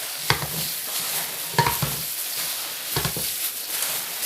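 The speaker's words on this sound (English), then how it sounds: "mix the noodle and the meat and everything thoroughly" Noodles and meat filling for Hmong eggrolls are mixed together, a few soft squelching and scraping stirs recurring at intervals over a quiet background hiss, close by.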